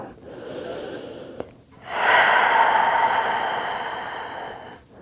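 Deep, steady breathing during a beginner hip-focused yoga session, a shorter breath followed by a long, loud, airy exhale that carries on for several seconds close to the microphone.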